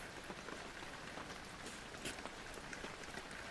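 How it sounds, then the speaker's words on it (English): Steady rain from the horror video game Penumbra: Overture, a soft continuous hiss of drops pattering on surfaces, even and unbroken throughout with no voices. "you should hear sad rain right about now."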